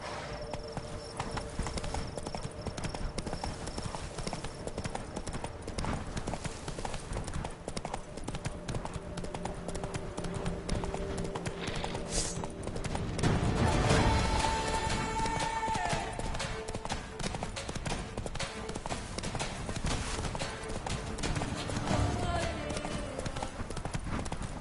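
Horse hooves in the video game The Witcher 3, a steady rhythmic clip-clop of galloping that runs throughout, with a brief louder rush partway through.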